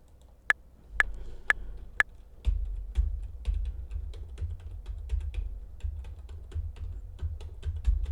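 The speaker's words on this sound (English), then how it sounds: "I'm pressing keys on my keyboard, but nothing happened." Keys pressed on a computer keyboard: four spaced, crisp clicks, then a rapid, steady run of close-up typing taps over a low background hum.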